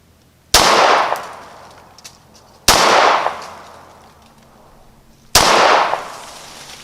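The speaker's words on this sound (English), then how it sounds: "Okay, fired 4 rounds." Ruger Security 9 pistol shots, three sharp loud reports spaced about two seconds apart, each followed by a long echoing decay outdoors, with no talking.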